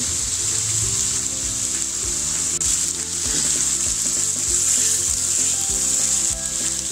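Chicken fries in a pan with browned onions for a biryani, a loud, steady sizzle with occasional stirring scrapes and no talk.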